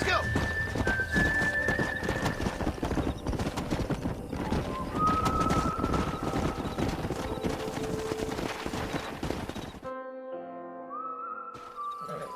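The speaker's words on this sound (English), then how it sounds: "We got some fine horses." Horses in Red Dead Redemption gallop with steady clip-clop hoofbeats and rough movement noise, with a couple of whinnies rising over the top. The sound cuts out sharply near the end, and a brief neigh follows in the quieter tail.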